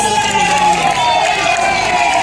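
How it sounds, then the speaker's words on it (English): Audience at a Kerala community event in Trivandrum breaks into steady, loud crowd cheering and clapping that fills the whole stretch without a pause. "we should give her a big round of applause"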